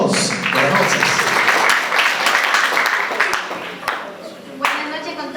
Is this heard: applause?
yes